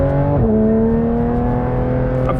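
On a racetrack, a 2023 Porsche 911 GT3 RS 992 drives at speed, its engine tone sliding down sharply at a gear change and then climbing steadily again as it pulls, loud and close from inside the car.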